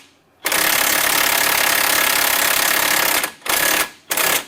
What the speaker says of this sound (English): And the impact works best because that way it doesn't spin on the inside.